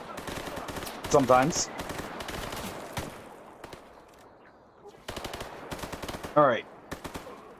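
Rapid bursts of video game gunfire, automatic fire and single shots, clustered in two loud volleys with quieter gaps, while a voice talks briefly over the action during a long live-streamed shooter session.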